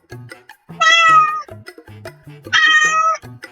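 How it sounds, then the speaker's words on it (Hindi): A big black cat gives two loud, drawn-out meows in close succession, each with a clear tonal wail, separated by short quieter sounds. "ड्रेनेज पाइप से बड़ी काली बिल्ली बाहर निकली"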